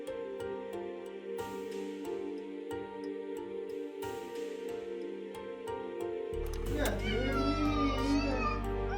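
A cat meows repeatedly over steady background music, with a high, wavering, drawn-out cry near the end.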